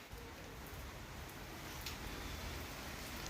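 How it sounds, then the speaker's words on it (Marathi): Heavy rain pours down in a dense, steady hiss, continuous and close with no pauses. "हे बघा जोरात पाऊस चालू आहे"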